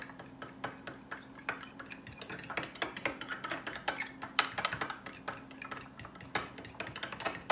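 Edible finger paint being mixed in a dish, a rapid series of light clinks and taps from a brush or utensil against the dish over a low steady hum, quiet and close, with no voices.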